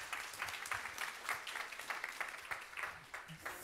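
A conference audience gives a round of applause for a speaker, a moderate, steady patter of many hands clapping in a hall.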